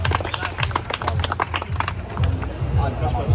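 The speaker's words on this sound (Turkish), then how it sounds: "Büyük bir alkış" Students in a boys' high school courtyard in Istanbul burst into quick, uneven clapping after a barbell curl effort, close and lively, mixed with crowd chatter and a voice talking.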